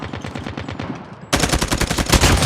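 Rapid automatic gunfire in the video game Call of Duty, bursts of quick rhythmic shots that jump sharply louder midway into a dense, continuous stream of loud firing.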